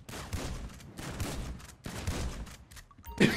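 Gunfire in the video game GTA 5 Online comes as several quick bursts of shots with short gaps between them, fairly close and moderately loud, with no speech over it.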